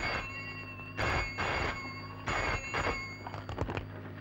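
An old telephone rings in a Hindi action film scene, loud bursts of bright electric bell ringing in separate rings with short pauses between them, and a shorter, choppier ring at the end.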